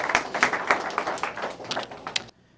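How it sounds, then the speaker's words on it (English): A small audience claps in uneven bursts for a couple of seconds, moderately close, then stops abruptly into near silence. "Give a round of applause for Imtiaz"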